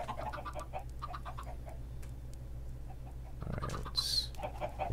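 Chickens cluck in a Minecraft survival world, short repeated clucks over steady game ambience, with a brighter burst of sound near the end.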